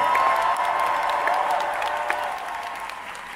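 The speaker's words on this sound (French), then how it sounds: "On fait un maximum de bruit pour Epic, s'il vous plaît!" Sustained applause from a large crowd at a cosplay finals at Japan Expo Paris, with some cheering, loud at first and gradually fading over a few seconds.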